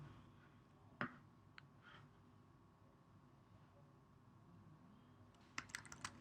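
A computer keyboard clacks with a sharp keystroke, a few scattered taps, then a quick cluster of typing at the end, quiet and close in a still room.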